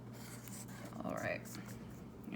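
A pen scratches across paper in short, quiet strokes while writing out a story outline by hand, soft and close, with a voice speaking over it.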